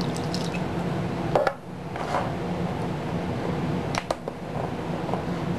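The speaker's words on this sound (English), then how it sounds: "I'm going to pour in about half a cup of chicken broth." Chicken broth, about half a cup, poured over cooked pasta and chicken, giving soft wet splashes and drips close by over a steady background hum.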